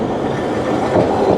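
A Kumamoto city tram, a Taisho-style streetcar, rolls past close by on its rails with a dense, steady rumble of wheels on track. No one speaks.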